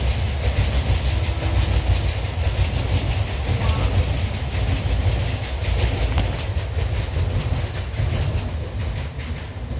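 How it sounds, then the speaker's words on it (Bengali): Trains pass close by a house on New Year's Day, a loud continuous rumble with clickety-clack from the rail cars that fills the whole stretch, and no talk over it. "ট্রেনগুলো এত ডিস্টার্ব করে কি বলবো।"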